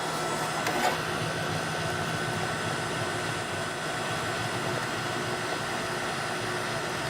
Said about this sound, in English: the machine is going to discharge all but a few ounces of the product